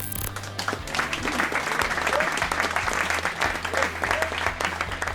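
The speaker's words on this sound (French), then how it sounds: "Applaudissements sur tous les bancs à Charleroi, où De Soleil a atteint le cap des 200 match" A large stadium crowd at a Belgian football match in Charleroi applauds loudly and steadily, clapping blending into a dense roar that carries on throughout.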